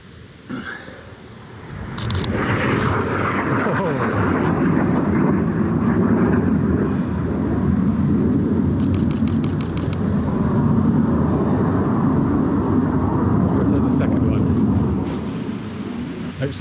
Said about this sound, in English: Looks like the Air Force are out today.